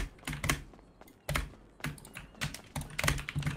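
Loud computer keyboard typing during a GTA V gaming session, bursts of rapid, clattering keystrokes in irregular clusters with brief pauses, close and prominent, no talking.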